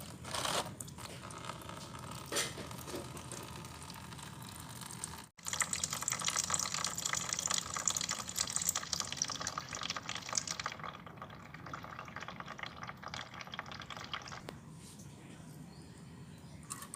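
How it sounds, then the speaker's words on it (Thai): Coolant trickles and drips steadily from a Yamaha Nouvo Elegance 135 scooter's radiator reservoir into a container nearby, with a brief interruption partway and faint background noise throughout. "พอน้ำไหล ออก จากหม้อพักสำรองหมดแล้วนะครับ"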